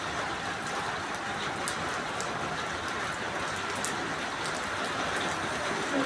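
Heavy rain pours steadily onto rooftops and surfaces, a dense, constant hiss with occasional louder drops, close and loud, with no voices.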